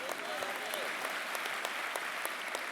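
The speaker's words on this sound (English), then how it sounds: "Yeah, you should clap on that." An audience claps steadily throughout at a sermon-style gathering, a dense even applause heard from a distance at moderate loudness, with no clear pauses.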